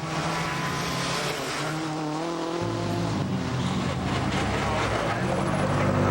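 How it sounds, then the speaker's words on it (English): Peugeot 307 WRC rally car suffering differential pressure loss, driving on dark, slippery, rutted roads at the 2005 Rally Japan; loud continuous engine roar with tire noise throughout, with a commentator talking over it. "Marcus Gronholm's 307 has lost pressure in the differentials"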